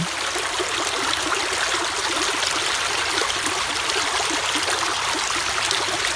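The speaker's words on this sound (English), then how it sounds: "Can you hear that? So pretty, the water flowing." A stream flows steadily, a continuous close rushing and babbling of water with no pauses or voices.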